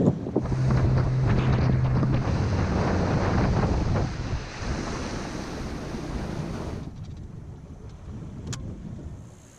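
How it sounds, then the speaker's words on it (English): Steady wind gusting across a tropical island shore, loud and broadband for several seconds, then easing to a lighter, thinner rush, with faint surf underneath. "The wind's still blowing a little bit."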